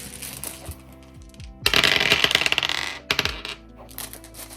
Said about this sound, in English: The last shake of the dice bag.